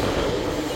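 A train rolls along a railway track beside a fruit orchard in Canada, a dense steady rumble of wheels and carriages, loud and close, with no speech over it.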